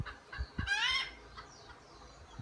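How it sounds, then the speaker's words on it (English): Hens on a small farm in Hawaii cluck in quick, short calls, with one louder drawn-out squawk rising above the rest, against a quiet outdoor background. "in the background you hear the chickens."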